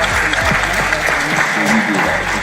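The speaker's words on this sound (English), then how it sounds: "give yourselves a round of applause and appreciation to the folks for being here." Sustained applause from a live audience at a community discussion event on the state of Black Pittsburgh, a dense, steady wash of clapping that fills the whole stretch at constant loudness, with faint voices mixed underneath.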